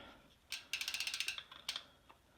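Shimano Hollowtech II left crank bolts are loosened with a quick, faint run of about a dozen close ratcheting clicks, followed by a few scattered single clicks.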